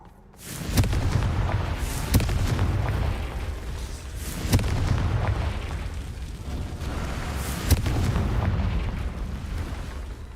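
Confringo fire-spell blasts go off in Hogwarts Legacy, about four deep booming explosions spread over several seconds. Rumbling crackle rolls between the hits.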